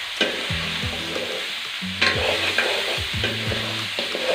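Jackfruit flower fries with salt in a hot pan while a utensil stirs it in repeated scraping strokes over a steady sizzle, close and fairly quiet, with no talking.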